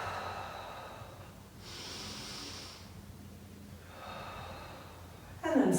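Slow, deep breathing held through a yoga stretch, with a long inhale and exhale, then a second breath a little later, close and soft, with no talk over it.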